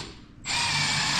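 A power drill bores a pilot hole into a homemade kneeboard for concrete finishing, kicking in suddenly at close range and holding a loud, steady whir to the end.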